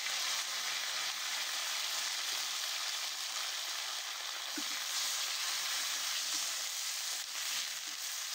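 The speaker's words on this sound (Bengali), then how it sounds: "এর ভিতরে কাঁকরোলগুলো দিয়ে ভালো করে ভেজে নেব।" Teasel gourd (kakrol) frying in oil in a pan with green chilli and bay leaves, giving a soft, even sizzle with occasional light stirring taps and no talking.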